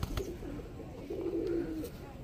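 Pigeons coo inside a loft offered for sale whole, with one long rolling coo standing out among softer ones, close by and moderately loud, over a busy background murmur.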